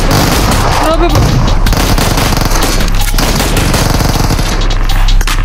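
Dense gunfire in a PUBG match, with rapid automatic bursts and overlapping shots forming a loud, continuous barrage, while a commentator talks over it.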